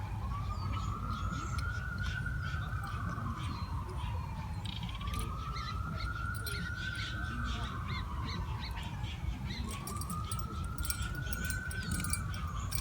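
Police sirens from a sheriff's chase on a distant freeway wail in slow repeating rises and falls over steady low traffic rumble, with crows and other birds calling on top.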